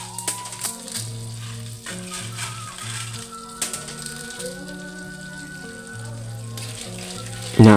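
Corn kernels for popcorn sizzle in a hot pan, crackling and popping continuously and close, with a steady low hum underneath and no speech.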